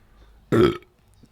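A man lets out a single loud, rough burp of under half a second, close to the mic, with near silence before and after.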